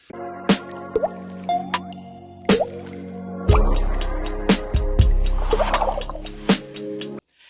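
Dripping liquid as a podcast intro sound effect: a series of loud, close, wet drips and plops at irregular intervals, with squishy, bubbling liquid sounds in the middle, no talking.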